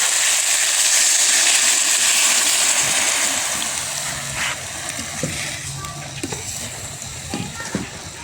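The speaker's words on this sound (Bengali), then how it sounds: "এবার একটু পানি দিয়ে দেবো" Water pours into a hot pan of chicken momos in sauce, giving a loud rushing hiss that fades into softer bubbling and a few clinks and taps.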